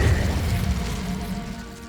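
Incendio fire spell cast in Hogwarts Legacy, a deep booming whoosh that hits hard at once and rumbles down over about two seconds, loud and close with no talk.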